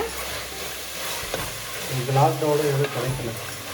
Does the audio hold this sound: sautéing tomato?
yes